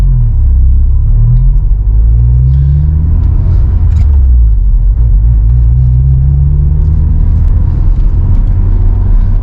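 A loud, low engine rumbles close by as a Honda S2000 AP1 roadster pulls away at a moderate pace, its pitch rising and falling.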